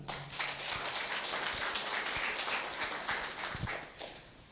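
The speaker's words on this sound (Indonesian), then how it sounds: "Tepuk tangan untuk kalian." An audience applauds at a grand opening ceremony, giving a dense burst of many hands clapping that holds steady, then thins and trails off near the end.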